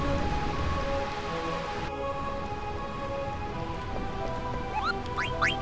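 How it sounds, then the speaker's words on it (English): Steady rain pattering on surfaces in Final Fantasy IX, a soft even hiss throughout with a few brief bright chirping tones near the end. "Can't stand all this rain."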